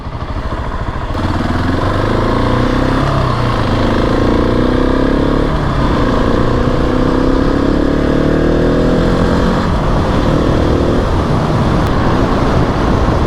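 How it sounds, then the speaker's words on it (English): A 2020 Husqvarna 701 SM supermoto runs loud and close on the road, its single-cylinder engine droning steadily with shifting pitch as it accelerates, backed by constant wind noise. "The bike is getting hot though. I think I need to get out on the road and do some higher speeds here."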